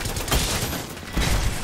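Rapid gunfire from a Kraber sniper rifle in the Apex Legends video game, loud, dense and continuous, with heavy bursts near the start and again toward the end, no talk over it.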